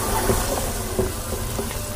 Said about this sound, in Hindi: मैं इसमें चावल डाल देती हूँ,